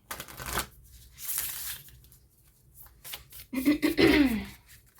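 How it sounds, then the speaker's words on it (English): A deck of cards being shuffled in two bursts, a soft riffle early on and a louder, crisper flurry of riffling near the end, with quiet gaps between. "I'm gonna go do a better shuffle"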